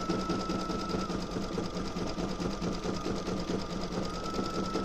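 A Brother Stellaire embroidery sewing machine runs steadily, stitching a zigzag with a fast, even mechanical whir and rapid needle clatter, close and continuous with no pauses.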